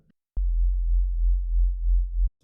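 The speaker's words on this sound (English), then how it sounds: "add in another oscillator that just plays a straight sine wave, no craziness going on" A plain synthesizer sine-wave oscillator, added as a clean low-end layer for a Reese bass, holds one steady, smooth low tone for about two seconds, starting and stopping abruptly with no other sounds.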